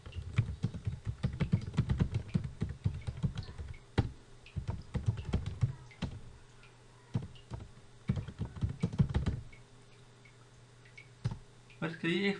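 Typing on a computer keyboard while writing in a new MS Word document, close rapid key clicks in bursts with short pauses, someone talking over parts of it.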